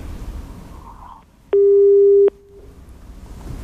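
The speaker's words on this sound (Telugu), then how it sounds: "రైట్, ఫోన్ లైన్ కట్ అయింది." A telephone busy tone sounds after a call line drops, one clear steady electronic beep lasting under a second, loud and close against a low background hiss.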